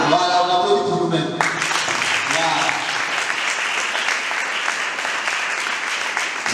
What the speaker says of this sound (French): on applaudit pour nous-mêmes